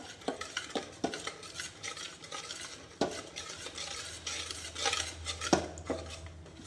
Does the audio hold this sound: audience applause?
no